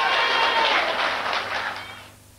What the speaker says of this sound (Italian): Applauso globale.